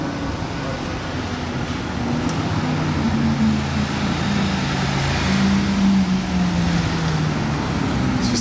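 Ferrari 812 supercar on a Monaco street, its engine note rising as it approaches from a distance and passes amid steady traffic and a bus.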